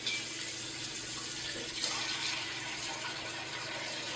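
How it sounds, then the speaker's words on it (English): Water pours steadily into the removable inner pot of a Gourmet BT900XL5 automatic electric pressure cooker, a continuous close splashing flow for soup with basil and ginger, without a break. "remove the pot and add some water to it to create the soup"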